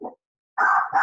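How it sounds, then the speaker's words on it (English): A small, hyper dog gives a short yip, then after a pause a longer, sustained bark or whine close by, loud and alone with no talking. "that's just my dog."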